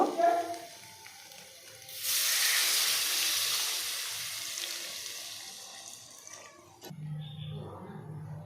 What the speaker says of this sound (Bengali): এবার এই জলটি এই জলটি আমি তরকারিতে দিয়ে দেবো